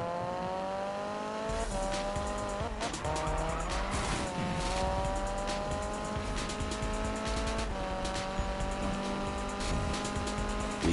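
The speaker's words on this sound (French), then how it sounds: "Drift là, punaise." A car drifts with its tires skidding and squealing in sustained, screeching bursts over a steady engine drone. It is loud and close, and the engine pitch shifts as it slides through the turns.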